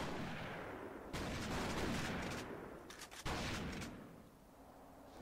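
Gunshots ring out in The Thing video game as two rapid bursts of loud, sharp firing, each lasting a second or two, separated by a brief lull over a low background rumble.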